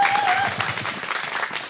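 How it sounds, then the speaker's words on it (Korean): Applause from an outdoor protest rally crowd follows a music performance, a dense steady clapping close by with a brief tone at the start. "큰 박수 부탁드립니다"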